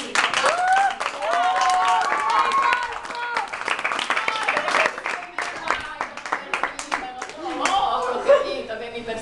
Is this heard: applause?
yes